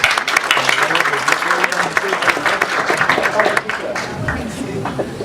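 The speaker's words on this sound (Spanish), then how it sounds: "Un aplauso para ellos." Crowd applause at a community event about selective waste collection routes, a dense round of clapping with scattered voices and cheers mixed in that eases off toward the end.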